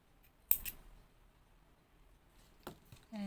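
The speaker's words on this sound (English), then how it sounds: "I will cut my yarn" Scissors snip through crochet yarn after a coaster is finished, making two quiet, crisp cuts about two seconds apart in an otherwise hushed room.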